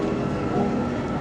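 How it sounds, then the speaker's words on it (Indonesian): Inside an MRT metro train riding in Malaysia, a steady, loud rumble of the carriage in motion fills the whole moment, with no talk. "Mula-mula naik MRT dulu."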